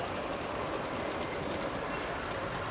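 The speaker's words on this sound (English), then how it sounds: "Freight train." A freight train rumbles past nearby in a steady, continuous roar of wheels and cars, with no voices over it.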